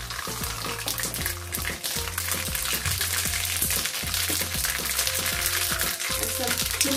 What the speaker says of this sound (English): So the oil is hot now. We're just going to put some mustard seed first.